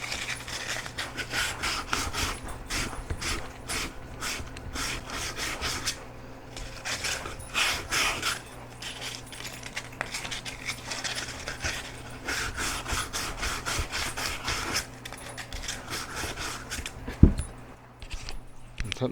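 Fine 1000-grit sandpaper rubs the commutator of a DC brushed motor from a Quickie P222 SE, producing rapid, close scratchy strokes in a busy rhythm, with a sharp click near the end.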